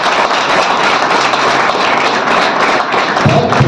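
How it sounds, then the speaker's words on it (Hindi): An audience applauds loudly at an award ceremony honouring 19 entrepreneurs, a dense, steady wash of clapping hands filling the hall throughout. "जोरदार फिर से ताली हो जाए"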